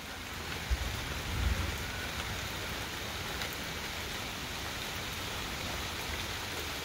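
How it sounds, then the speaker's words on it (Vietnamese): Steady rain falls over the countryside in Vietnam on a gloomy overcast day, a dense continuous hiss of drops hitting surfaces, with a couple of soft low thumps near the start and no voices. "Ở quê này nghe tiếng mưa là rất là buồn."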